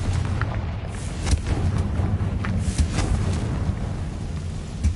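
Confringo blasting spell explosions in the Hogwarts Legacy video game, a sustained rumbling blast with low booming texture and several sharp bursts popping through it.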